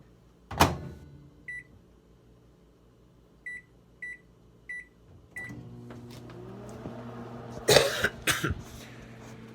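A microwave oven heating a plate of seasoned nachos: a door thud, a run of short keypad beeps, then a steady low hum as it starts running, with a cough and clatter near the end.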